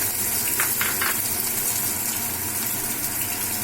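Capsicum and onions sizzling in hot oil in a pan for Indo-Chinese chilli chicken, a steady loud broadband frying hiss throughout with a few brief sharper spatters near the start.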